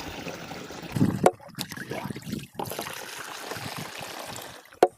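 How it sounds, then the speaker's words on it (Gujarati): Water trickles and pours into a pesticide spray pump tank being filled at a fennel field, a steady close splashing stream with a couple of sharp knocks from the container. "હવે આપણે પંપ ફૂલ ભરી દઈશું પાણીથી"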